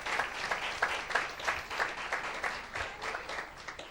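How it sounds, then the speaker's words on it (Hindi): A congregation at a worship service applauds in unison, with steady rhythmic clapping that carries on throughout at moderate distance, fairly quiet and with no voices on top. "एक जोरदार ताली प्रभु के लिए।"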